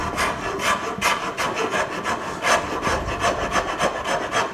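A coarse rasp works end grain wood in a shop, giving rhythmic, scratchy back-and-forth strokes, close and fairly loud, with no talking.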